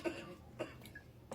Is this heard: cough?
yes